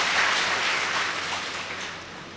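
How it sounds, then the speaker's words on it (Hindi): Audience applause fills a hall during a spiritual meditation camp gathering, a steady broadband clapping that stays loud and dense throughout, tapering slightly toward the end. "इनके लिए ताली बजाओ जरा जोर से।"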